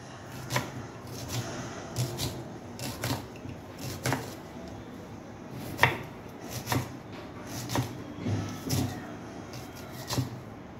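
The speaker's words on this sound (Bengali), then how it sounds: "এইভাবে আমি পেঁয়াজটাকে কেটে নিচ্ছি।" An onion is chopped with a knife on a board, giving evenly spaced sharp knocks in a steady rhythm, close and moderately loud, with no talking.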